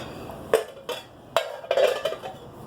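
Metal cooking pans from a British Sikh/Hindu 24-hour ration pack clank and rattle as they are handled, giving several sharp metallic knocks and scrapes, close and fairly loud, with no talking.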